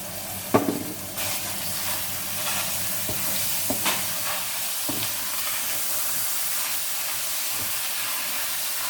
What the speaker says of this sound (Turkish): Bunları bu şekil kavuruyoruz arkadaşlar.